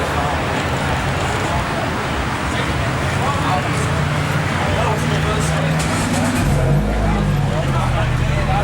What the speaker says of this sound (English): it sounds really good with the exhaust I put on it